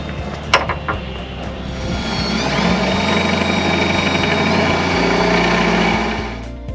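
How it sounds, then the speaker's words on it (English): A power drill fitted with a long bit bores holes past a hinge during a Rock Hard 4x4 sport cage install on a Jeep JKU. Its close, continuous motor whine climbs slightly in pitch and holds steady for about six seconds. "Alright, now I drilled the holes."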